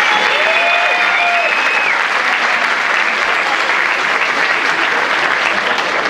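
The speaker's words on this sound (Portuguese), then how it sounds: "Palmas para eles." An audience at a diocesan dance showcase awards ceremony applauds steadily and loudly for several seconds. The dense clapping is briefly topped by a few whoops early on.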